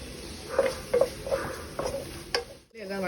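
Onions with a pinch of salt sautéing in a pan for egg biryani give a steady sizzle, broken by several distinct stirring scrapes spaced about half a second apart.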